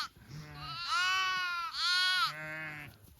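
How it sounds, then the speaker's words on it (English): Lambs bleating on a frosty farm during hay feeding, a couple of loud, close, wavering calls one after another with a higher bleat rising over a lower one. "Look at all the lambs."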